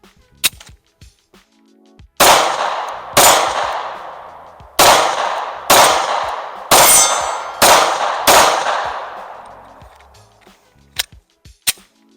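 Sharp gunshots from micro 9mm pistols (Shadow Systems CR920, PSA Micro Dagger) at a shooting range, seven loud reports in an uneven string, each with a ringing decay, plus fainter clicks before and after.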